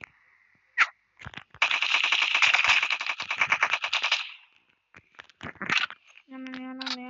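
Rapid automatic gunfire in a video game, a long burst of closely spaced shots followed by shorter scattered bursts and clicks, close and loud, ending in a steady electronic tone.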